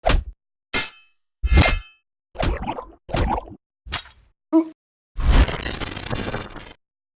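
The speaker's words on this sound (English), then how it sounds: "Most of the new sounds that I've added have been impact sound effects to help give the combat more polish" A series of short, sharp metallic impacts and clangs from video game combat, spaced apart with gaps between, ending in a longer crunchy hit with scraping texture.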